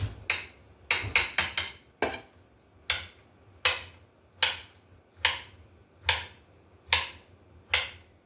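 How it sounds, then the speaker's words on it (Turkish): Steady rhythmic knife chops of peppers into cubes on a cutting board, sharp and close, in an even pace with a quick flurry near the start. "Biberleri doğradım bitti."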